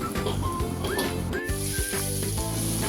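Garam masala and turmeric sizzle and fry in oil in a pressure cooker pan for egg biryani, a close, continuous crackling hiss with scraping stirs throughout.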